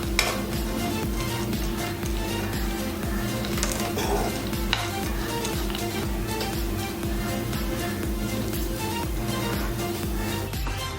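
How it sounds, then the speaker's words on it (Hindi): Dates and dry fruit laddu ingredients stirred together in a pan over heat, a continuous gentle sizzle with rhythmic scraping and stirring strokes, steady and close throughout. "अब हम सारे इंग्रेडिएंट को अच्छी तरह मिक्स कर देंगे।"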